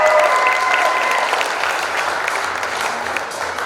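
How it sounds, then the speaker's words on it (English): Dense audience applause for a contestant at the Miss Armada pageant, loud at first and tapering slightly over a few seconds, with crowd noise beneath the clapping. "big round of applause"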